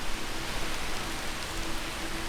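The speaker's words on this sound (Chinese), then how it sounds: "这个雨啊，越下越大，那个风啊，把这些竹林吹得" Heavy rain pours steadily through a bamboo forest while wind stirs the stalks, a dense, even hiss of falling water with no pauses, close and constant.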